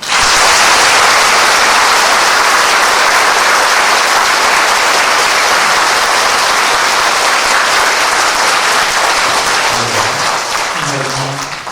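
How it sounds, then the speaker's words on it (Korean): A large church congregation applauds continuously, loud and dense, with the clapping tapering slightly as a voice begins speaking near the end. "우리 감사의 박수를 드립시다."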